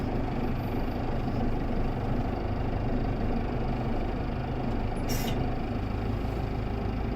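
Steady, fairly quiet drone of a Case IH CS100 tractor engine running as the tractor moves forward and backward, a continuous even rumble with no talk.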